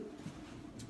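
Racing pigeons in a stock loft coo softly, a low, faint burbling that lasts under a second.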